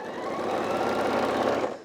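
Sewing machine stitching quilt-as-you-go quilt pieces: a steady, fast mechanical whirr of close needle strokes running continuously for about two seconds before slowing, with no talking.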